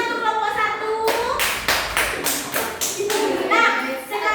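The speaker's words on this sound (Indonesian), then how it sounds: "Berikan dulu tepuk tangan untuk kelompok satu." Children in an elementary school maths class clap together for a group of classmates, a burst of loud, rhythmic clapping that rises out of chatter and fades back into children's voices.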